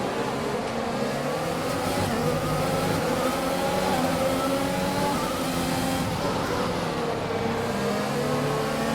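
A Formula 1 car races through the Curva Grande at Monza in F1 2021, its high engine note rising and falling with gear changes in a continuous loud drone.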